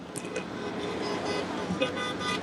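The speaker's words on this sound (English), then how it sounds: "Lots of people honking their horns." Car horns toot over steady roadway traffic at a roadside independence rally in Sylvan Lake, Alberta. The honks are moderately distant and blend into continuous crowd and vehicle noise.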